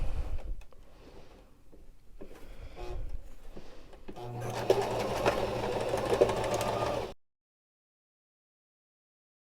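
A sewing machine runs in a few bursts while stitching the ties of a beginner's wrap skirt, with a steady, close motor whir that grows louder near the end and then cuts off abruptly into silence.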